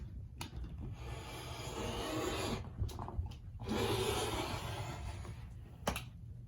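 A brand-new blade rasps through six stacked layers of quilting fabric for a kaleidoscope block, making two long, steady scraping strokes with a brief pause between, close and moderately loud, with faint thumps and no talking.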